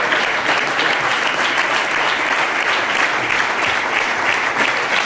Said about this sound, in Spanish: Me noto cicateros en el aplauso.